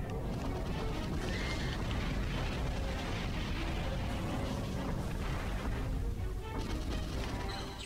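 Turret guns firing in the Godzilla PS4 video game from 2014, a continuous, loud roar of rapid booms and blasts that stays dense throughout, with no voices.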